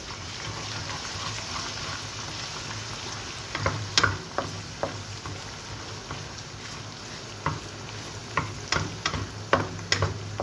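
Garlic and egg frying together in a pan for homemade fried rice: a steady close sizzle, broken in the second half by sharp scraping and clicking strokes as the mix is stirred.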